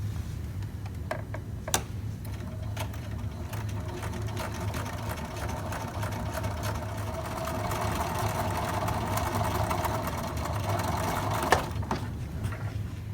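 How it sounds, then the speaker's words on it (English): A sewing machine runs steadily, stitching down the centre of a pressed fold of fabric for a drawstring backpack, its fast rhythmic ticking hum continuous and close, with a couple of clicks near the start and end. "Next, you're going to stitch down the center of the fold."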